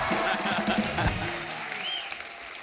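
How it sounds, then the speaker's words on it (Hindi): Studio audience at a comedy show clapping together, a steady wash of applause, with a voice speaking over it. "जोरदार तालियां"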